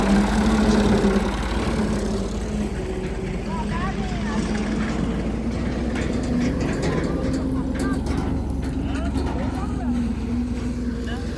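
The diesel engine of a tractor with a trolley idles nearby in a steady low rumble, with a hum that stays even throughout as people talk over it.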